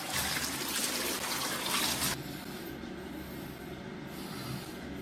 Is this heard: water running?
yes